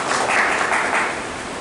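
An audience at a felicitation event in Nagda applauds with a steady, dense wash of many hands clapping, loud and continuous with no voices over it.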